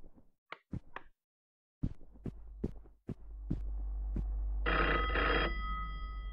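A telephone rings in a home, preceded by a few sharp knocks and taps, then a low hum rises and a bright electronic ring sounds twice in quick bursts near the end.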